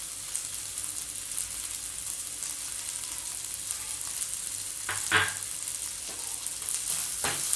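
Green bajji chillies sauté with grated coconut in a pan, giving a steady gentle sizzle with a few short scraping stirs toward the end, no talking.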